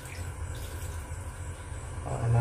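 Water trickling and being poured bit by bit into a container while mixing strawberry sauce for catfish bait, a steady close splashing and running sound with a louder pour at the end, no speech.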